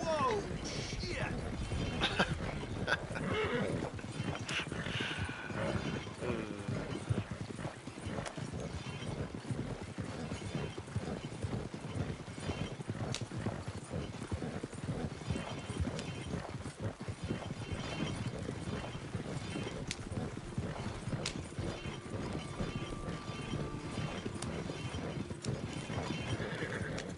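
Horses in the Red Dead Online video game, with steady clip-clop hoofbeats and an occasional whinny running the whole time beneath continuous talk and game noise.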